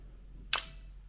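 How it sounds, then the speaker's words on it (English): A 35mm film SLR camera's shutter opens in bulb mode with one crisp, close mechanical click, heard alone in a quiet room. "Shutter's opening."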